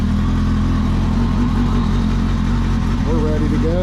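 A Kawasaki ZX10R sport motorcycle engine running close and loud at a steady, throbbing idle, with a brief rising rev blip near the end.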